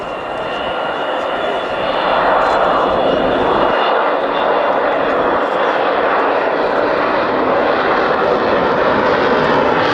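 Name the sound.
Avro Vulcan bomber flying past with wheels down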